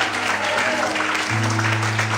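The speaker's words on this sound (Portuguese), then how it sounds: "aplauda a Deus essa noite" Congregational applause fills a church service, a dense steady wash of many hands clapping at close range, with a sustained tone from a keyboard or organ underneath.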